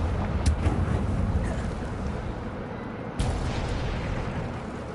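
A Confringo spell explosion from Hogwarts Legacy, a deep rumbling blast with a sharp burst near the start and a second sudden impact around three seconds in, loud and close against a low roar.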